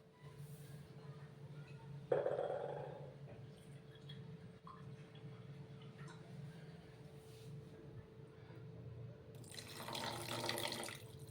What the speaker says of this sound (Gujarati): થોડુંક આપણે આમાં પાણી એડ કરીશું